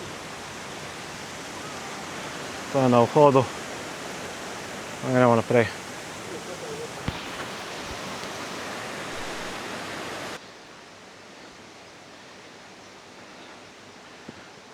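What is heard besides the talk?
small waterfall flowing into a pool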